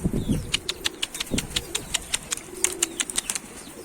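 A runaway blue Arkatepe pigeon lands on a rooftop, its wings beating in a rapid series of sharp, crisp flaps, loud and close, with low thumps at the start.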